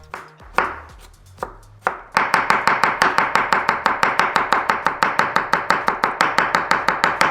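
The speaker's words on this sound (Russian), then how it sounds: "Берем соленый огурчик и очень мелко его нарезаем" A knife finely chops a pickled cucumber on a board: a few scattered cuts, then a fast, steady run of crisp, evenly spaced chops, close and loud.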